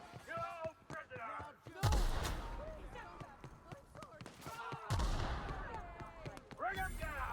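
Gunfire in The Outer Worlds combat, two heavy sharp shots a few seconds apart amid shouting voices and game effects.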